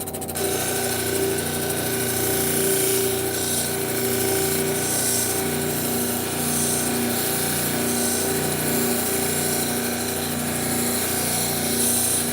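A power tool grinds and polishes quartz rocks glued together, running as a steady loud whir with a dense buzzing hum that holds for the whole stretch, with no speech.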